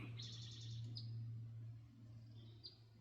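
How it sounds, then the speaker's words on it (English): Faint, high bird chirps come in short bursts over a steady low hum in a quiet outdoor mountain setting. "Yep, birds chirping."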